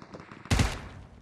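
A single loud shotgun blast from a battle royale video game, close and alone, with a short decaying tail after the burst.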